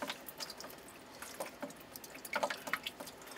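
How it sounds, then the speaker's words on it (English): Water drips intermittently from an old leaking plumbing valve near a shower pressure regulator, small scattered plinks and trickles at close range, faint and irregular with no talking. "So I've still got some water coming from up there."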